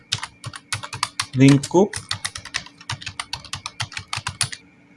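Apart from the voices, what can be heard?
typing on a computer keyboard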